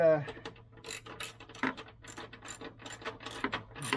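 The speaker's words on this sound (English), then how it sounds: "Need to tighten everything up. Let's tighten it up good." Ratchet wrench tightening the battery terminal fittings on a 1998 Mustang Cobra, giving a run of quick, close mechanical clicks in short bursts over a low steady hum.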